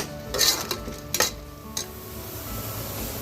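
Masala for a village-style chicken curry is stirred and roasted in a pan: scraping spoon strokes and clinks against the metal over a soft sizzle, close up, with no talking.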